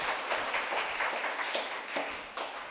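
A church congregation claps steadily to welcome a priest at a novena Mass at St. Ignatius shrine in Sathampatti, producing a dense, continuous patter of many hands at moderate distance with no talk over it.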